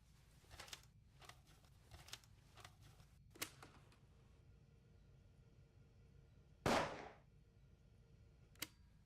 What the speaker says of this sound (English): A recording of a gunshot.